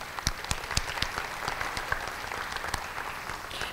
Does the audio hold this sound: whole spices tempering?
no